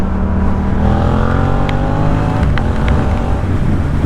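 Engine noise from a 2018 Yamaha MT-07 twin-cylinder motorcycle on a road through midday traffic jams, a steady, loud drone with rising and falling engine pitch across the whole stretch and no talk.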